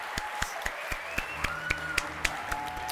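Scattered audience applause during a Dead by Daylight 10th anniversary broadcast, a thin patter of separate claps with a steady pulse over a faint hum, with no talk over it.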